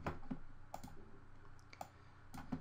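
Faint, sparse clicks of computer keyboard keys pressed one at a time as shortcuts while working in Word, quiet and irregularly spaced over a soft background hum.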